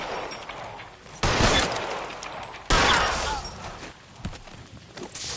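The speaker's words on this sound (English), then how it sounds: "He shot at me." Gunfire in the LA Noire video game: two loud, sharp bursts of shots crack out close by, each trailing off into a noisy decay, with softer clatter and scraping between them and no talk.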